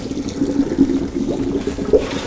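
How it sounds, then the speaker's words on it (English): Water from boiled pasta noodles is dumped into a kitchen sink, a short steady pouring and splashing gush, close and fairly loud. "I'm gonna dump the water off of these noodles over here in the sink."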